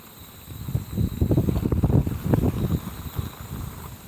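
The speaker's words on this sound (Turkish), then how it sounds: "Bayağı rüzgar esiyor." Wind gusts buffet the microphone outdoors beside a canal in the Netherlands, a low rumbling roar that swells in the middle and eases off, with a faint steady hum above.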